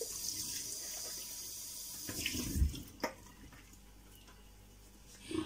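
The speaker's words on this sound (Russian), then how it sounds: "Помою посуду. Точнее, миску." A bowl being washed under a running tap in a kitchen sink, with steady water flow and a few clinks and splashes as the bowl is handled, heard fairly close.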